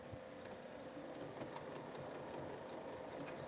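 A sewing machine running steadily while stitching elastic onto a hair drying towel, a continuous close mechanical whir with a faint rattle and no talking.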